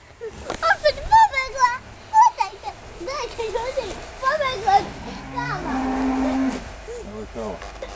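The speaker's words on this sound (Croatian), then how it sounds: "Evo, eno krava" A village cow lets out a low, drawn-out moo partway through, heard under the chatter of an adult and children talking close by.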